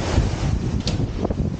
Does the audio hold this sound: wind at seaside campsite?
yes